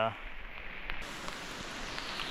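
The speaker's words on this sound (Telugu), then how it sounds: "సో వర్షం ఎక్కువ అయిపోతుంది" Steady rain hisses down in a dense, continuous patter, fairly quiet, with nothing else standing out.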